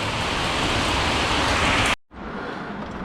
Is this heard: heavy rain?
yes